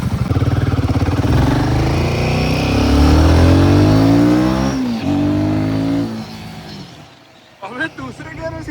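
A motorcycle carrying two riders accelerates hard through its gears, the engine note climbing in pitch and dropping at each shift, loud and close, then easing off to a quieter idle with faint talk at the end.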